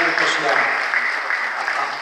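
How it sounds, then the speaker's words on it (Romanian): Audience applause at a Romanian festival award ceremony, steady clapping filling two seconds without pause, fairly loud and close. "aplauze."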